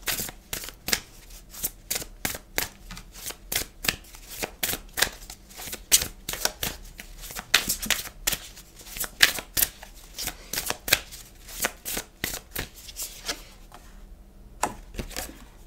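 A deck of tarot cards is shuffled steadily for a love-reading draw, with rapid, crisp riffling and slaps repeating close by at a fairly even rhythm, with no talking and only a brief lull near the end.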